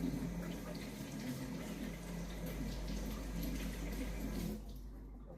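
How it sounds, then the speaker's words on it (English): Cold tap water runs steadily as hands are rinsed under it, a close continuous splashing hiss that cuts off near the end, leaving a quieter background. "I'm just going to rinse my hands under cold water for a minute"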